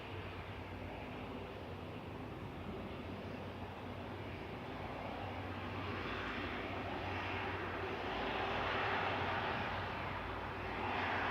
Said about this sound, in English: A330-300 with a very sedate rollout there. Not much reverse action, I'm afraid.